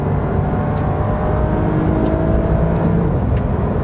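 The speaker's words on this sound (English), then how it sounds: "You get to do one of these downshifts here onto the dual" A Porsche 911 Carrera 992 engine hums and whirs from inside the car on a dual carriageway, a steady, loud mechanical drone with slight rises in pitch, no talking over it.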